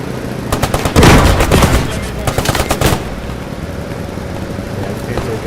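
A Panzer tank cannon shot in Squad 44, a heavy loud boom followed by rapid bursts of machine-gun fire for about two seconds before fading to a low rumble, with voices underneath.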